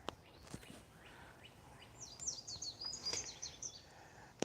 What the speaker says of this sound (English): Definitely got some chirping birds.